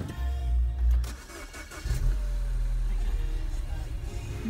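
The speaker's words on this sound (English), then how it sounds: "Just going to start her up." A 2010 automatic MINI Cooper S engine cranks and catches, then settles into a steady low idle hum heard close up from inside the car, with a brief mechanical rumble at the start.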